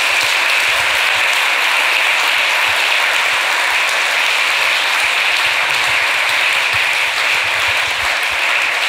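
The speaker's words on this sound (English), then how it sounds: "A little round of applause before we get to questions." An audience at a talk applauds continuously, a dense, steady wash of clapping that holds at the same level throughout.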